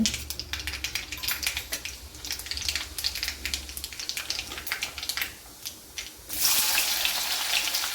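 Half a spoon of mustard seeds and a spoon of cumin sizzle in hot oil in a pan, a dense crackling hiss with sharp popping spatters, then a louder, steadier sizzle near the end.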